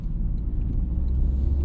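A Toyota GR Corolla fitted with an MST Performance intake rumbles as it accelerates, a loud, steady low engine drone heard from inside the car.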